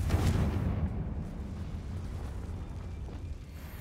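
Confringo fire spell exploding in the PC game Hogwarts Legacy, a deep booming blast that starts loud and then rumbles and fades slowly, heard alone without speech.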